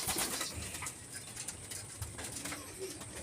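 Racing pigeons coo outdoors, soft repeated throaty calls over a steady background hiss, with a brief flutter of wings near the start.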